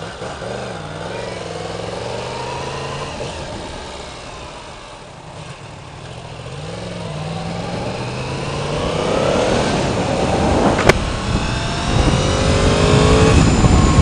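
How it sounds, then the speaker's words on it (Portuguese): Cars pass one after another on a busy street, engines swelling and fading as they go by, with rising traffic noise toward the end. "Tem carro pra caralho."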